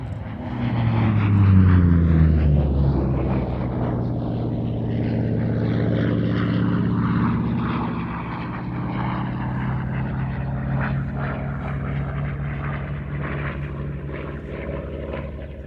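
A Grumman Bearcat piston fighter roars past at a Fly Navy airshow at Shuttleworth, its loud propeller drone swelling to a peak, then fading slowly as it draws away.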